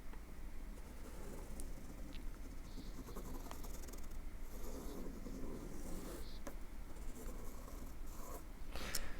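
A pencil in a compass drawing a circle on paper, making a faint, soft scratching against a quiet room hum, with a few small taps.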